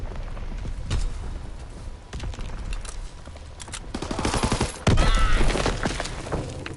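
Gunfire in a PS4 shooter comes as bursts of rapid shots that grow heavier and louder toward the end, with game effects behind them.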